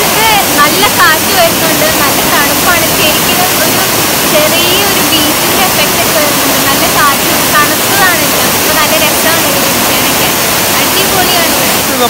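Rushing water of Urulikuzhi waterfall roars steadily and close, a dense, continuous wash of falling water with no pauses; voices can be heard faintly beneath the torrent.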